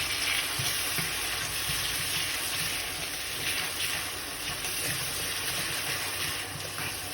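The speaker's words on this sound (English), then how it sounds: "I'm just going to let these onions saute and cook off a little bit" Onion, ginger and garlic sautéing in a pan, a soft continuous sizzle with steady hiss throughout, fairly quiet and without voices, ending in a brief clatter.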